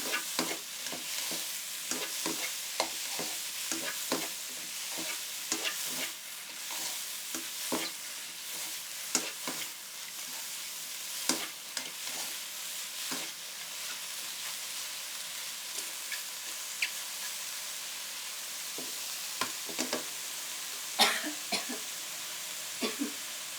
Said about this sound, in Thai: ผัดไปก่อน ผัดพอให้เขาโดนกระทะนิดนึงนะคะ